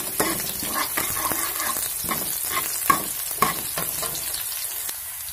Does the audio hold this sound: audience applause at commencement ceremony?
no